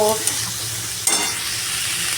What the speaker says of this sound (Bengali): এটাকে বেশ ভালো করে ভাজা ভাজা করতে হবে